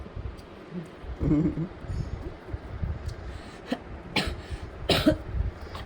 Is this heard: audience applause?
no